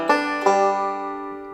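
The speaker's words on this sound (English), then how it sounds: "JD a lot of times does a little hammer on where he does a little bit of pushing up on the 3rd string as he does it" Banjo fill-in lick in JD Crowe style, two quick plucked attacks with a hammer-on and slight push on the third string, ringing clearly and decaying alone.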